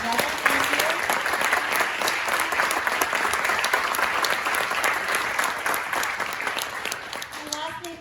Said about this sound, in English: let's also give a round of applause to Long Valley Patriots for putting this amazing event together.